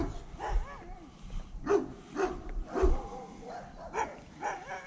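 Several dogs of different sizes, from a big one to small puppies, bark in repeated bursts at a steady pace, fairly close and loud, with no talk.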